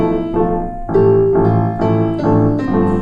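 Piano notes are played unevenly and choppily with a weak, straight pinky, a loud, close run of irregular chords and notes with jerky timing and lurching volume.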